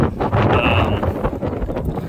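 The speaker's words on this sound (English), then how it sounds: "Sorry about the wind. It has not stopped in weeks." Strong gusts of wind buffet the microphone outdoors in an open pasture field, a constant low rumbling roar with no voices.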